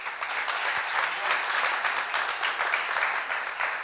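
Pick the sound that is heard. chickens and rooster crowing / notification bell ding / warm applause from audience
warm applause from audience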